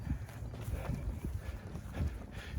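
Wind gusts buffet outdoors along a walking path, a low rumbling blustery noise that swells and fades irregularly, faint and close to the microphone.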